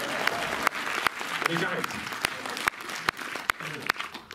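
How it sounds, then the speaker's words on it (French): A cinema audience at the Méliès in Montreuil applauds continuously, dense clapping filling the room with occasional sharp louder claps, while a voice speaks briefly over it. "vous pouvez applaudir pendant au moins 10 minutes"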